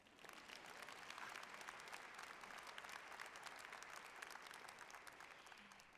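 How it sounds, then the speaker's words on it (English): At a nursing college graduation ceremony, a large audience claps for Dean Marino in a steady, continuous wash of applause heard from a distance, with no talking over it. "You need to clap for Dean Marino."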